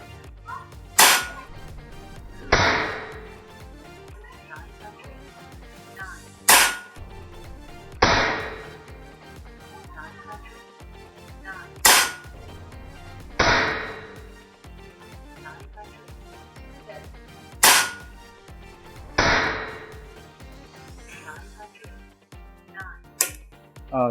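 A Ghost Warrior Battosai semi-automatic airsoft gun fires single shots, each a sharp, loud crack followed by a softer echoing snap, spaced every few seconds in an even rhythm, with quiet background between them.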